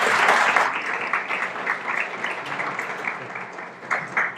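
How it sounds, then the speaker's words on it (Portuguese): A crowd at a municipal council public tribune session applauds a departing citizen speaker, a dense, steady wash of clapping that stays loud throughout and swells briefly at the end. "Pode aplaudir o Rafael também."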